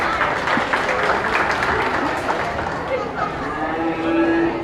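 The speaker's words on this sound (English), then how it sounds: "Let's go and give these kids a round of applause." An audience at a county beef show applauds the young exhibitors, a steady wash of clapping that holds for several seconds with crowd chatter and voices mixed in.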